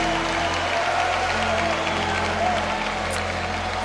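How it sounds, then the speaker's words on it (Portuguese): Applause from a Pentecostal church congregation during a sermon, steady and full throughout, with some crowd noise and a low hum beneath, continuous from start to finish. "Aplauda Jesus."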